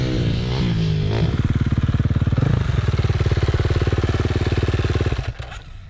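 A small motorcycle engine idles with a rapid, steady putter, loud and close, then cuts off near the end.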